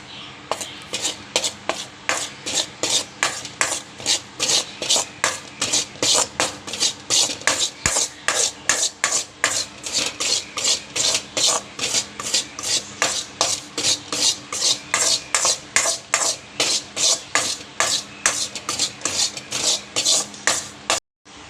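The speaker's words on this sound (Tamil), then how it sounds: "ஹீட் ஆனோடனே இந்த கோதுமை மாவை ஆட் பண்ணிக்க போகிறோம். நல்லா ஃப்ரை பண்ண போகிறோம்." Wheat flour fried in hot ghee for Ashoka halwa, stirred steadily in a pan: a long run of rhythmic rasping scrapes, fast and even, close and fairly loud, with no voices.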